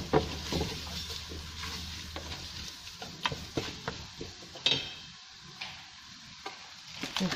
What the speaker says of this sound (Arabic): نخلي هادشي يتشحر لي شويه